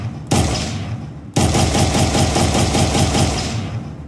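Rapid gunfire in an Unreal Engine 4 first-person shooter, two loud bursts of fast repeated shots with a short gap between them, close and with no talking over them.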